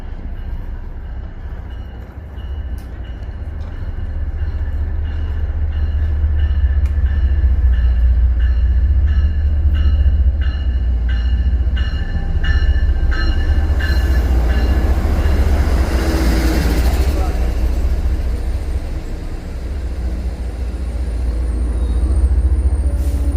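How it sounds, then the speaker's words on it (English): A South Coast Rail train departs on its first outbound run: a loud, close low rumble of wheels and engine with a repeating rhythmic clatter, a burst of hissing air brake midway, and a faint high squeal near the end. "South Coast Rail, first train outbound."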